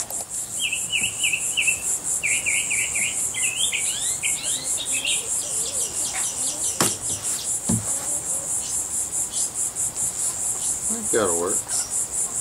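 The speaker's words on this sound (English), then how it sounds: "I wish you'd find that cricket or skate or grasshopper or whatever it is and step on it" A cricket or grasshopper chirps in a rapid, unbroken high pulse the whole time, loud and close, while birds call intermittently in the background and a person speaks briefly.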